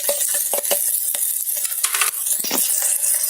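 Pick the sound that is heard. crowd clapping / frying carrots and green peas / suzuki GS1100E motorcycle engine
frying carrots and green peas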